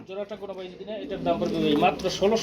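Pigeons coo in a small loft or market of paired birds, soft throaty calls rising and falling close by, mixed with overlapping talk from people nearby.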